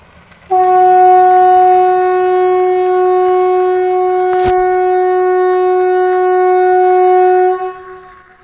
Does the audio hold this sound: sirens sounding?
yes